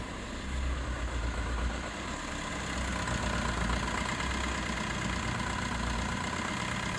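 A Fiat Fiorino van engine with faulty injectors runs steadily at a raised, even pitch with a low rumble, sounding like sustained revving close by, with no voices.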